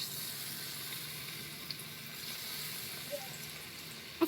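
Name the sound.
batter-coated paneer frying in hot oil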